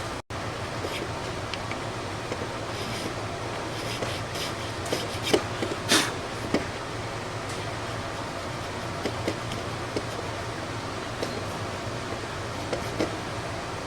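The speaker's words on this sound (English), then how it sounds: "I'm filing that hardened glue off." Small file scraping hardened glue out of a guitar's bone nut slot during a vintage Hohner restoration, a steady soft rasping rub over a constant fan-like hum, with a few sharper scrapes.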